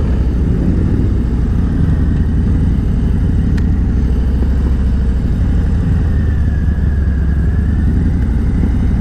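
Motorcycles pulling away from a junction on the road to a bike rally in La Manga, a steady loud low engine rumble running the whole time with no talk.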